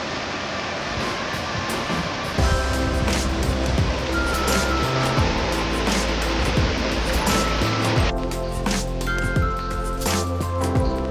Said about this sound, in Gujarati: અમરગરી બાપુના આશ્રમના મંદિરની પાછળ એક નદી પણ વહે છે.